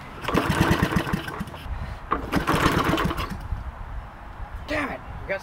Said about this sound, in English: Let's see if awesome ghetto fabulous motor mower will run.